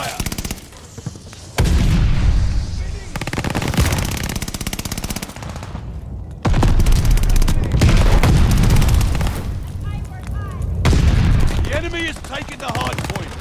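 Dense, sustained automatic gunfire and explosions roar through a hardcore Hardpoint match in Call of Duty: Vanguard, loud and continuous with short lulls, while faint radio callouts sound underneath.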